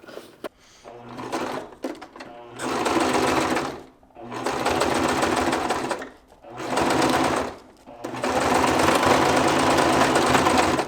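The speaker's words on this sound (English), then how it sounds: "stitch the same exact way with a 3/8 seam allowance" Sewing machine stitching webbing and fabric pieces with a 3/8-inch seam allowance. Four loud, close bursts of rapid mechanical whirring with short pauses between them, plus a few clicks near the start.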